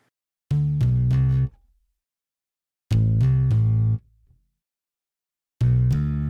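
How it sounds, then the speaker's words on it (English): A deep bass riff repeats three times with pauses between, a buzzy synth tone stacked over a plucked bass, full and upfront. "Adding the synth bass on top makes it sound like this."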